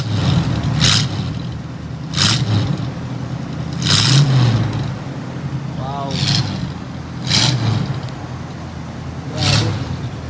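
Revving of a Toyota Starlet fitted with a swapped 3SGE Beams engine, heard as repeated short throttle blips spaced about every two seconds, close and fairly loud over a steady idle.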